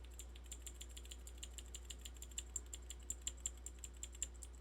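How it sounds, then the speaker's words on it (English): A clicky keyboard-style key that sounds like a mouse click is pressed repeatedly, giving a steady run of sharp, faint clicks over a low background hum. "this is the one that sounds like a mouse click"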